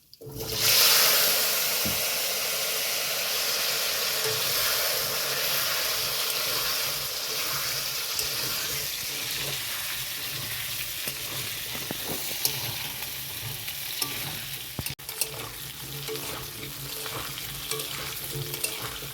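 Potato pieces sizzle in leftover fish-frying oil seasoned with nigella seeds, a steady crackling fry with occasional stirring scrapes running throughout, close and unbroken by talk.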